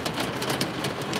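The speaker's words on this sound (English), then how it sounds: "Can you hear the hail?" Hail pelts down during a storm in a dense, steady patter of hard little impacts that clatter on surfaces close by and keep going throughout.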